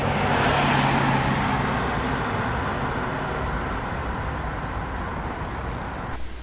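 A car passes along a street, its steady road noise loud at first and easing off slightly as it goes by.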